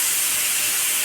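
Dried fish (shutki) fries in a hot pan, giving a loud, steady, close hiss that fills the brief moment without a break.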